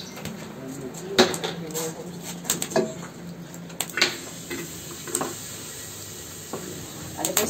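Spices hit a hot pan on a wood-fired stove with a soft sizzle, punctuated by clinks and scrapes of a utensil against the pan.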